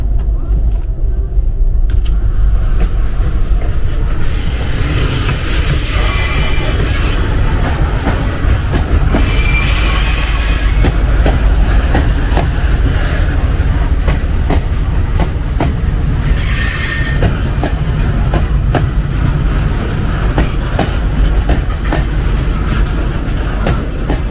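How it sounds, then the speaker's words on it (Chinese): A train rumbles slowly and loudly across a road in a county town in Shanxi, China, for a long stretch, with steady clattering of wheels and occasional bursts of hissing noise. "但好像它已经减速了，这火车。"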